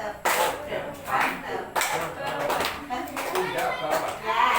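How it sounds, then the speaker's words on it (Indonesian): Elementary schoolchildren clap through a rhythmic clapping game, sharp grouped claps recurring in a steady pattern, mixed with children's chanting voices close by. "Tepuk kanan, tepuk kiri, tepuk depan, pundak bawah."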